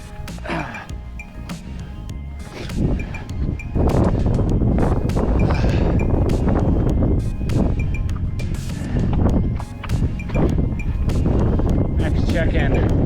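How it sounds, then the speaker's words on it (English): Strong wind buffets the microphone on a mountain hike up Mt Sherman, a Colorado 14er, via the Iowa Gulch trail, roaring and gusting loudly throughout with brief surges, close and rough. "the wind does stop every now and then"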